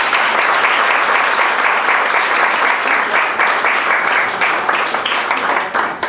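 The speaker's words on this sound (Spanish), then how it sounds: "el aplauso también debe ser para Federico" Sustained, loud applause from an audience at a World Retinitis Pigmentosa Day talk, a thick, even roar of many hands clapping that continues without a break and fades slightly at the very end.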